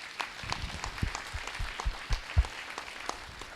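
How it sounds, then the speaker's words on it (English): Audience applause for the candidates at a 2018 RM of Springfield municipal election candidate forum for Wards 1 and 2, heard as a steady patter of clapping hands from a modest crowd, fairly soft and lasting throughout. "And we please get a round of applause for our candidates here tonight."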